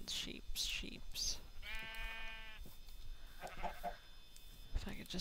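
Minecraft sheep give a single drawn-out bleat with a wavering, buzzy tone, set between stretches of a player talking over game noise.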